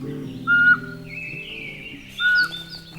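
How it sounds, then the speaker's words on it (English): A pygmy owl calls in a forest, giving two clear whistled notes about a second and a half apart over a soft musical bed. "And the pygmy owl."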